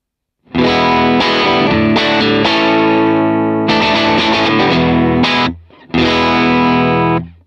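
Electric guitar through a Motherload amp with the mic on axis for the brightest tone, loud, crunchy chords ringing out in several sustained strums with a short break near the end.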